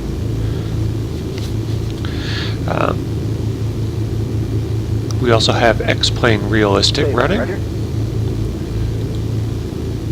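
A Just Flight Piper Arrow's piston engine drones steadily and evenly throughout inside the X-Plane flight simulator, a constant low hum while someone talks over it.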